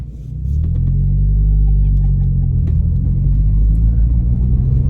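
A modified Vauxhall Astra VXR van's engine rumbles steadily at idle, a deep, loud and close drone that swells in the first half-second and then holds evenly, with no one speaking.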